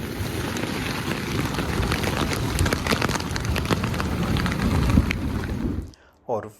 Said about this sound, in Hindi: बाहर बहुत तेज बारिश हो रही है